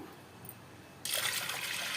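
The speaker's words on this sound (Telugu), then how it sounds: "glass water పోసుకుంటున్నాను" Quiet room tone, then a glass of water abruptly starts pouring onto washed toor dal in a steady, close splashing stream that continues to the end.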